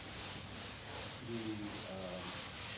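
Sanding a forged carbon fiber panel on a C8 Corvette: a soft, rhythmic back-and-forth rubbing scrape, close and fairly quiet, repeating in even strokes.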